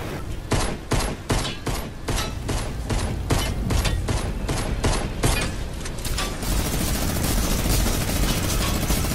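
Sustained minigun fire from Fortnite's Air Royale mode hammers out in rapid, evenly spaced bursts, loud and close, then blurs into a continuous mechanical roar of aircraft and gunfire without speech.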